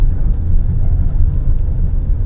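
A Chery Tiggo 7 Pro SUV with a 7-speed dual-clutch gearbox is being driven and manually downshifted. Its engine gives a steady, loud low rumble with faint ticking above it, and no one speaks.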